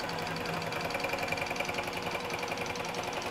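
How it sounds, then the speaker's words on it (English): QBOT quilting robot on a sewing machine stitching tie-off stitches, a fast, even mechanical needle chatter with a steady motor hum, loud and close, running without pause and without voices. "you can see right there, it just did the tie-off stitches to tie off my design"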